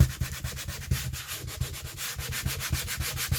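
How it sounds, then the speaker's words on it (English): Rhythmic back-and-forth sanding on a handmade journal cover, each stroke a scratchy rasp in a steady close-up pattern with nothing else audible. "give it a bit of a sand, which I probably should have done earlier"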